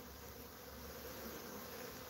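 Bees buzz around a swarm lure box outdoors, a faint, steady, unbroken hum with no voices.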